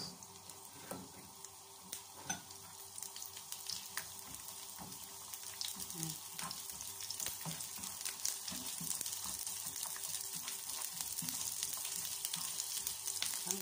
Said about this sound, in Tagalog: yung almonds natin, preto natin siya. Kunti lang na oil.